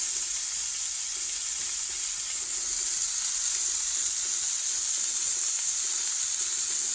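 Steak fries in a pan with a loud, steady sizzle and hiss that runs unbroken throughout, close and alone without any talking.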